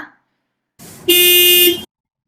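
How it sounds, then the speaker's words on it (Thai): A loud, steady car horn blast held for about a second, following a brief burst of rushing noise; no talking. "เสียงแตรรถนะคะ"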